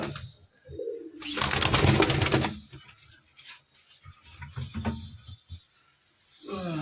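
Pigeons coo in low, throaty bursts inside a home loft, with one louder rolling coo near the start and softer calls and rustles afterward, close by and without talk.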